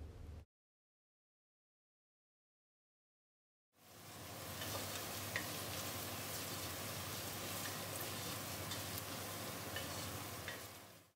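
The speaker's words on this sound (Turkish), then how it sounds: "Kapya biberi de yaklaşık 3-4 dakika kavuruyorum aynı şekilde" Diced red bell pepper sautéing in a pot for a vegetable soup, a steady, dense sizzle that starts after a stretch of silence and holds evenly at close range, with faint stirring ticks.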